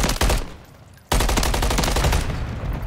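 An MCW rifle fires in Modern Warfare 3 in long rapid automatic bursts, loud and close, with a brief pause after the first burst before sustained fire resumes.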